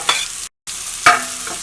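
Ginger, garlic, green chili and onion sautéing in hot coconut oil for fish biryani, short bursts of sizzling with spoon stirring scrapes and a brief gap of silence, close and fairly loud.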